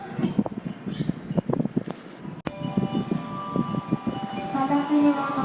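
Tobu Tojo Line commuter train arriving at a station the day after a typhoon, its low rumble and a rising tonal brake squeal under a public-address announcement voice.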